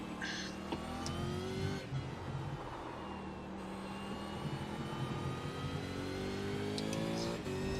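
Race car engine in the iRacing sim dropping down through the gears to second, revs rising and falling in close stepped bursts, loud and steady throughout with faint talk underneath.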